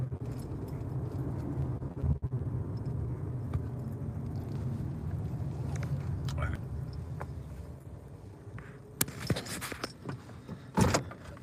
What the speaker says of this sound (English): Hold on, let me just park.